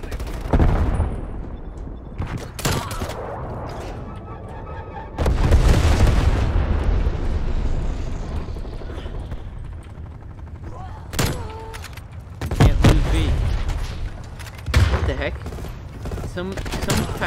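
Explosions and rapid gunfire in a Call of Duty match roar loudly and almost nonstop. Bursts of automatic fire and heavy booms overlap, with no clear talking.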